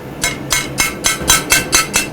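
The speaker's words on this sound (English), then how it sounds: "I have a very large hammer." A large hammer strikes hot metal while a ladle is forged, eight loud, evenly spaced ringing blows about a quarter second apart, close and clear with no talk.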